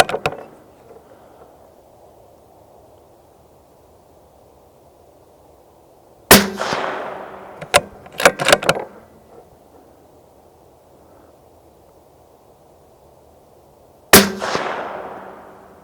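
Outdoor shots from a Tikka T3X TAC A1 rifle in 6.5 Creedmoor: a handful of sharp, loud reports, one alone, a quick cluster of three, then a final one, each with a brief ringing tail over quiet background hiss.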